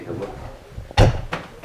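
A cabinet door in a tiny house is opened: a solid wooden thump with a soft rattle, followed by two lighter knocks. Faint background voices murmur.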